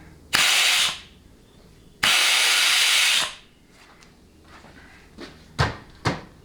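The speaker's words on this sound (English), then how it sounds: "I still have my Fugazi nozzle on the tip of my blowgun, so you're going to hear a lot of air." Two loud bursts of compressed air hiss from a blowgun fitted with a nozzle in a workshop during 4L60E transmission servo testing, followed by a few faint clicks and knocks.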